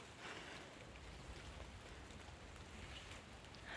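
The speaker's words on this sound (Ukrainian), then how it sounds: "Це не просто дощ. Там гроза лізе до мене." Steady rain from an approaching thunderstorm pours down in a continuous, even hiss, with scattered drops pattering on a surface throughout.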